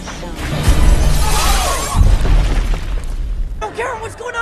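A movie scene in which a Chitauri core detonates inside the Washington Monument elevator, heavy booming rumbles and crashing debris with a second impact, mixed with voices talking over the chaos.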